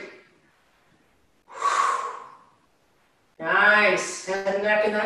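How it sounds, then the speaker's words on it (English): Breaths during an upper-back Zoom workout set, two forceful breathy exhalations close to the microphone separated by silence, the second longer and voiced like a strained groan. "Exhale."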